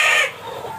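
Hens cluck on a farm while one may be laying, giving a brief, close, high squawking call that fades into softer background clucking.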